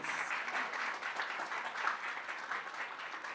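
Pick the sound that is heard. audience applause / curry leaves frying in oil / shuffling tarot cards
audience applause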